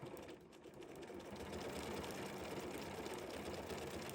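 A computerized embroidery sewing machine ties a knot, stitching with a quick, steady mechanical whir and rapid needle clatter that picks up slightly after a soft start, quiet and close, with no talking.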